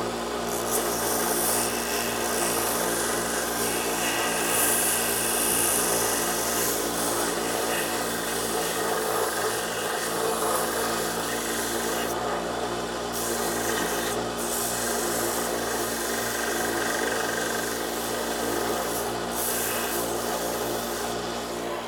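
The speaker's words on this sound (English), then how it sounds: "I'm going to sand this to a nicer shape" A sander grinds steadily at a small workpiece, rounding it into shape in a workshop, with a continuous close, loud abrasive rasp that holds unbroken throughout.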